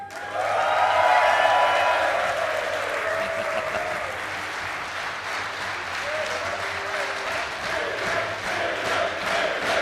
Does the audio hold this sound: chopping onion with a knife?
no